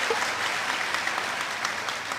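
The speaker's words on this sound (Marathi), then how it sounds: "टाळी वाजवा." Crowd at a comedic kirtan gathering claps in steady, full applause, many hands blending into an even roar that holds at constant loudness throughout.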